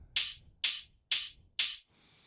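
An open hi-hat sample from a tech house track hits four times in an even rhythm, each a bright hissing splash that decays quickly, played alone and fairly quiet.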